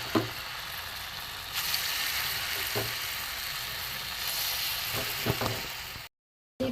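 Mung dal fritters for a syrup-soaked sweet frying in hot oil, a steady broad sizzle with faint clinks of stirring, briefly breaking off near the end.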